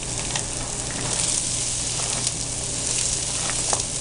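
Garlic and onions frying in an already hot wok for fried rice, a loud even sizzle with occasional light crackles, no voices.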